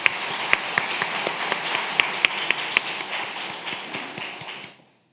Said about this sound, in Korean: 우리 하나님 앞에 영광의 박수 한번 드릴까요?